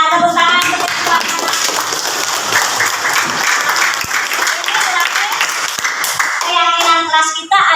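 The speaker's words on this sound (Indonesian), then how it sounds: "Sip ya, tepuk tangan." Loud, steady applause from a classroom of students fills nearly the whole stretch, dense clapping with a few brighter hand claps, and a teacher's voice briefly audible at the start and end.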